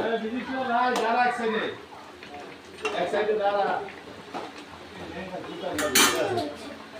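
Bhola fish curry with brinjal and onion stirred in a pot, spoon clinks and scrapes against metal heard intermittently beneath a woman's speech.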